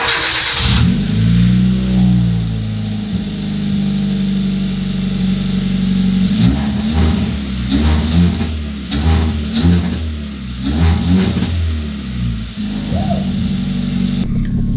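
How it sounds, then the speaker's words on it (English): Car engine cold-starting, then revved repeatedly in quick bursts that rise and fall over a steady idle, loud and close, with no talk. "Cold start."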